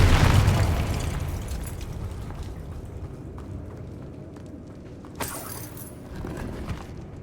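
Confringo fire spell from Hogwarts Legacy detonates in a heavy opening boom that fades into a rumbling tail, followed by a couple of smaller crackling bursts.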